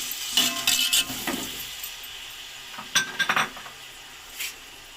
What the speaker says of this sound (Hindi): अब ये मैं इसके अंदर डाल दूंगी टमाटर।